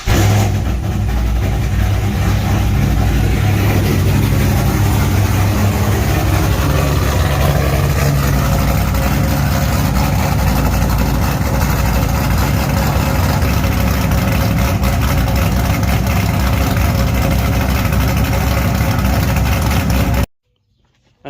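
A Pontiac GTO engine cold-starts and settles into a loud, steady idle with a deep throbbing rumble, running continuously close to the microphone before cutting off abruptly at the end.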